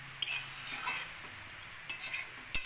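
A utensil scrapes and clinks against a pan while grated carrot halwa is stirred, in a few short metallic bursts over a soft, quiet background.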